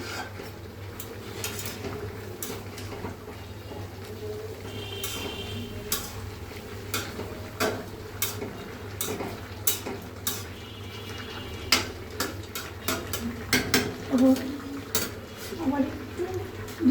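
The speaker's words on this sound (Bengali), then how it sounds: "এবার নাড়াবো, সাথে মিক্স করবো," Chinese mixed vegetables stirred in a pan with a utensil, giving irregular metallic clinks and scrapes over a steady low hum, with a voice talking at times.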